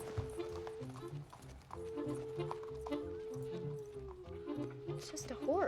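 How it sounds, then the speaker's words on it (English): Horse hooves clip-clop in a steady, moderate rhythm at a distance, faint and partly masked by a constant tonal hum and background noise. "It's just a horse."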